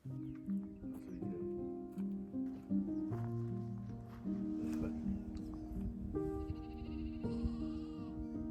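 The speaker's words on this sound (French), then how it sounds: "il y a les moutons aux alentours de la cabane" A flock of sheep bleats around a cabin in misty countryside in Portugal, with many overlapping, wavering calls close by that continue steadily throughout.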